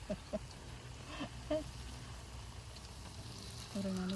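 Pia pia fritters sizzle and crackle in a pan of oil at a field's edge. A steady frying hiss continues throughout, broken by a few small pops and clinks, and people talk faintly in the background.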